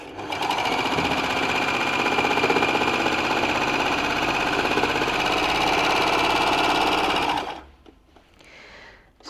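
A baby lock Enlighten overlocker runs an overlock stitch on cotton fabric, a loud, steady, fast mechanical whirring held for about seven seconds close up, then stopping abruptly, followed by faint handling noises.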